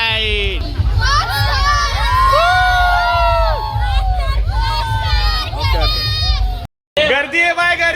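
A loud, dense crowd at a Govinda dahi handi event, with children and adults shouting and cheering continuously under overlapping voices, cut by a brief silent gap near the end before the noise resumes.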